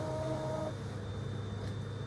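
A Naruhoshi DTF2405 DTF printer automatically tensioning freshly loaded film, a low steady mechanical hum with a brief whining motor tone that stops partway, close and fairly quiet.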